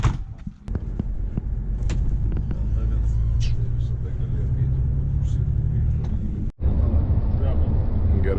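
A bus idles and pulls away with a steady low engine rumble, a door thunk near the start and a brief break partway through, while people talk throughout as a sports team boards for a trip.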